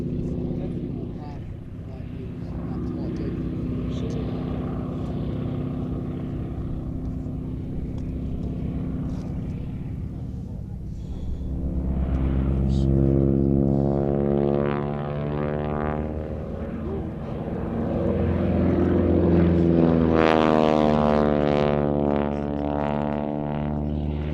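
A wingwalking biplane engine drones steadily through a loop at a Sywell airshow, its harmonic tone rising and falling in pitch as power changes, loud and continuous beneath a commentator's voice.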